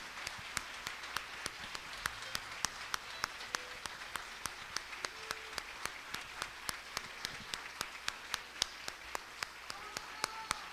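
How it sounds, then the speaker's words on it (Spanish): Audience applause at a tribute event on stage: a steady, moderately distant patter of many hands clapping, with sharper individual claps standing out throughout, no voices. "Un fuerte aplauso por su legado."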